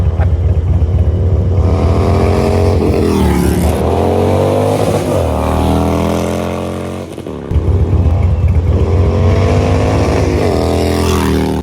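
A Harley FXR motorcycle with a loosely mounted muffler out on a shakedown ride, its engine loud and close, revving up and down through rising and falling pitch with a brief dip before pulling hard again.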